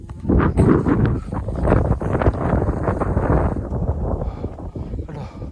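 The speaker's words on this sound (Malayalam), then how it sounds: "നല്ല കാറ്റുമുണ്ട്" Strong wind gusts buffet the microphone on a mountain trek through grassland to Sabarimala, a loud continuous roaring rush that swells and eases, close and dominant throughout.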